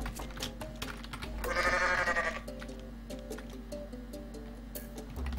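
A cartoonish goat scream from Goat Simulator, one loud bleating cry rising over faint game music and ticking effects, then fading back into the quieter backdrop.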